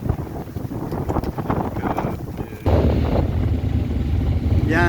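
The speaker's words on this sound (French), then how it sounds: "Je suis au moteur parce que franchement, il n'y a pas de vent." A sailboat motoring under engine power across the Bay of Biscay in calm, windless conditions gives a steady low engine drone with water and wind rush, growing louder and fuller partway through.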